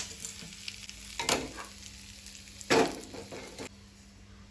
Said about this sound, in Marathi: सासवां तडतडली तशी तातूंत घालता करबिलाची पानां।